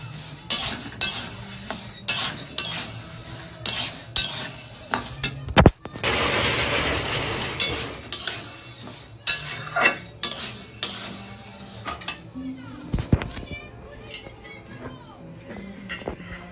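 Kalai peas are fried and stirred in a pan, with repeated metallic scrapes and clinks of a utensil against the pan over a soft sizzle. A loud bang comes partway through, and the clattering thins toward the end.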